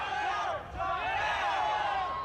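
A crowd at a Ninja Warrior competition shouts in a loud, sustained roar of overlapping voices, whoops and calls, with a brief dip before surging again.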